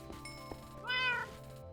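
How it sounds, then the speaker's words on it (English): A stray cat in the Minecraft video game gives one clear, loud meow amid soft background game sounds, with no speech. "the stray cat"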